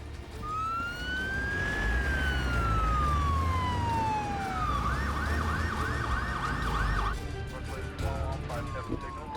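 A fire department emergency vehicle siren on a call-out, loud and close, with a long rising and falling wail that changes to a fast rapid yelp and then returns to a wail, over steady engine and road rumble.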